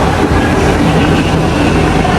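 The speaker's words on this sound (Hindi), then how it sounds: "मेट्रो आ गई है हमारी" A metro train pulling into the station, a loud, close, steady rumble of rail cars with a rattling clatter filling the whole short stretch.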